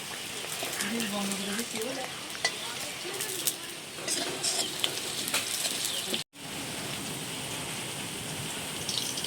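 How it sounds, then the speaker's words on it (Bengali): Potatoes frying in oil in a wok, a continuous rain-like sizzle with occasional clinks of utensils, while a voice talks intermittently over it nearby. "ওপাশে কড়াইতে আলুটা ভাজা হচ্ছে"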